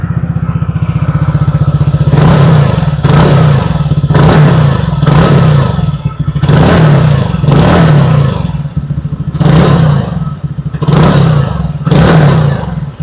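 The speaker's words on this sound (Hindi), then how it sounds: "आइए अभी सुन लेते हैं इस स्कूटर की एग्जॉस्ट नोट।" A TVS Ntorq 150 scooter, top variant, revs its engine in loud, close bursts roughly once a second, each blip swelling and dropping back to a steady low idle, with a bassy exhaust note and no talking.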